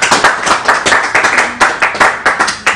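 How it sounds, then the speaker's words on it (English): A crowd at a live fundraising broadcast claps for a donor, loud and close, with rhythmic, nearly unison beats repeating about every quarter second, with no talking. "Clap for her, please."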